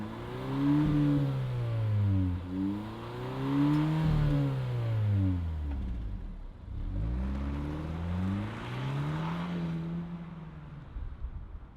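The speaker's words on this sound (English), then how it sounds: "let's fire it up and see it roll." A 2025 Kia K4 GT-Line Turbo engine heard from outside, revved repeatedly in rising and falling sweeps: several loud, close throttle blips and climbs that settle back to idle between pulls, with no voices.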